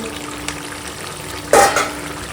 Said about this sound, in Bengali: ওই লাউ জলেতেই লাউ সিদ্ধ হচ্ছে কচি লাউ